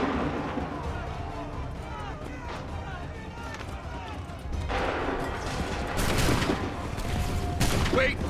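Musket volley fire from massed soldiers in Assassin's Creed 3, with sharp crackling bursts rising out of a busy battlefield din around the fifth, sixth and eighth seconds. Shouted commands and crowd noise mix in beneath the shots.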